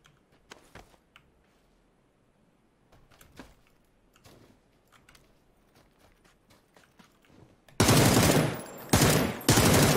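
Weapon fire in PUBG: scattered faint clicks and thuds, then a sudden, loud sustained burst of rapid automatic shots that pauses once briefly before resuming.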